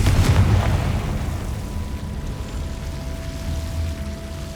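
A Confringo spell explosion in the Hogwarts Legacy video game bursts loudly at the start, then settles into a rumbling, crackling tail with a faint sustained tone beneath it.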